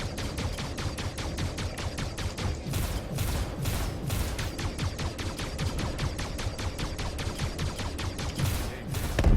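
Rapid automatic gunfire in the Star Citizen video game, a long run of evenly spaced sharp shots with a brief pause near the start, loud and close, with no talking.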